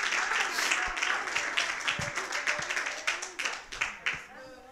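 A church congregation claps in a burst that starts dense and loud, then thins into scattered claps that fade out.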